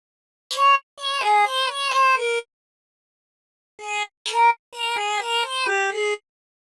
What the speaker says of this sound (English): I finally find the right tones for the vocal chops and they finally sound like this.